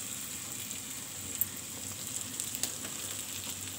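Garlic paste and onion frying in a pan for a restaurant-style prawn masala, a steady soft sizzle throughout with a few faint stirring clicks and no talking.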